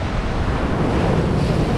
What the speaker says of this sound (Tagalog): Yan naman yung alon.